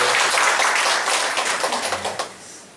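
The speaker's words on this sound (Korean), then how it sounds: "우리 한번 박수로 축복합니다" A church congregation applauds together after a prayer at a Sunday worship service, a dense burst of clapping that thins out and fades toward the end.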